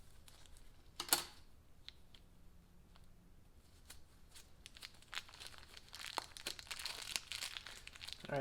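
A plastic bag is squeezed and crinkled as an improvised icing bag while building a plywood boat, with a sharp crackle near the start, then dense crinkling and rustling that swells louder toward the end.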